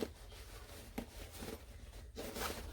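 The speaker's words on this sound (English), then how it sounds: "you need to unzip your top pocket, or top main zipper." The top main zipper of a handmade mini backpack being unzipped, giving faint, close scratchy rasps in short separate strokes against a quiet background.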